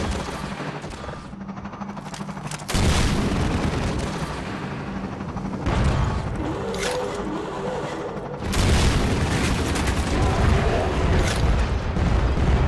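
Rocket launcher blasts and heavy explosions in Half-Life 2 (MMod) on Highway 17, loud booming detonations with continuous rumbling gunfire layered throughout, dense and relentless with no talk.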